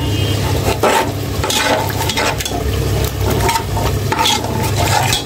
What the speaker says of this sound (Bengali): খিচুড়ির জন্য মশলা নিলাম, সব ধরনের মশলা নিয়ে কষিয়ে নিচ্ছি এখন।